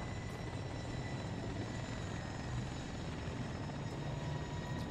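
AH-1 attack helicopter coming in to land in a military video game, a faint, steady rotor and turbine drone heard from a distance with no talk.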